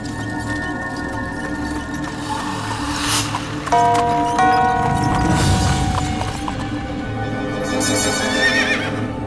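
A horse whinnies amid steady background noise, with faint hoof clip-clop and a rumbling horse-drawn carriage sound, tonal whinny lines rising midway.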